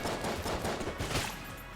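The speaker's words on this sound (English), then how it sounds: "Oh, that was a beautiful explosion." Rapid bursts of gunfire and a blast from Enter the Gungeon crackle in quick succession, loud and dense, then thin out toward the end.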